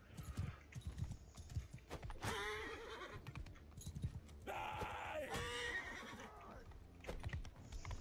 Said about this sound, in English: My horse is kinda hurt,